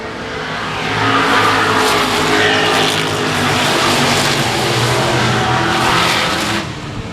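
Race cars at Shady Oaks Speedway roar in a continuous loud pack of engines on the restart, swelling and holding at full volume before fading slightly at the end.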